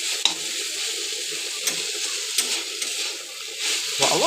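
Khutura greens (amaranth) fry and get stirred in a pan, making a steady close sizzle with a few sharp clicks of the utensil against the pan. No voices are heard.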